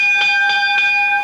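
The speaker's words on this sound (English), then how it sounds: "Tap the bell." A ring bell at a wrestling event is tapped three times in quick, even succession, each strike ringing out with a clear, sustained metallic tone.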